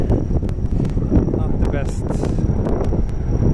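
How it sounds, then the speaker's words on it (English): Wind buffets the microphone in a steady low rumble while a person talks over it, outdoors on a street walk in Sakura-shinmachi, Tokyo. "Well, getting windy again."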